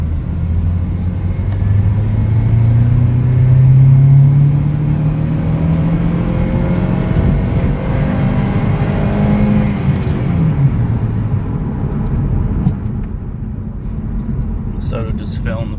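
A 2005 Honda Civic ES2 sedan with a K20A3 engine and automatic transmission drives along, its engine rising in pitch as it accelerates and shifts, with steady road rumble inside the cabin and a person talking over it.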